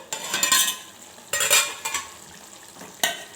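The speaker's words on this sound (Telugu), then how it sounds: "చికెన్ కూడా ఫ్రై అయిందండి ఆయిల్లో" Chicken frying in oil in a pot as a ground spice paste goes in for a village-style chicken curry, with bursts of sizzling and stirring and scraping of a utensil, close and fairly loud, no voices.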